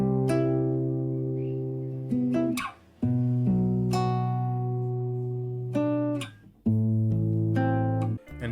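Sustained melodic R&B sample run through a saturation plugin alone, harmonically rich held tones with a few brief dropouts and note changes, moderately loud and clean with no voices.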